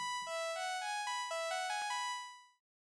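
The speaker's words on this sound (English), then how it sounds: "Pretty basic kind of sawtooth stuff going on there." A bright, buzzy analog sawtooth synth tone plays a short run of stepped notes, each with a sharp attack, then fades out after about two and a half seconds.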